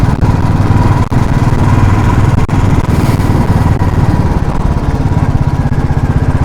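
A motorcycle engine runs loud and close throughout, with a continuous buzzing drone on a long ride from Sikkim through Siliguri.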